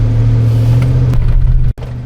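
A vehicle on a dirt track heard from inside a touring four-wheel drive, a steady loud engine drone with a brief rougher swell as it goes by, then a sudden momentary dropout before the rumble resumes.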